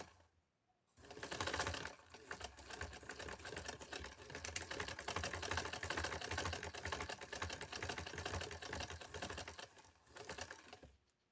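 A sewing machine stitching a piping strip onto a neckline runs in a fast, steady, loud mechanical chatter for about nine seconds, starting and stopping abruptly with brief quiet on either side.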